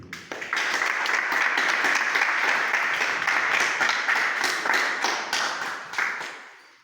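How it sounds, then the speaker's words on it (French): An audience at a family and gender department workshop applauds a speaker's entrance, a dense, sustained round of many hands clapping close and loud for several seconds before tapering off. "Bien vouloir acclamer son entrée"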